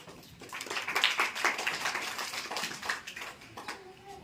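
An audience at a school event claps in a steady, fairly dense burst of applause lasting a few seconds, heard from the crowd without speech over it.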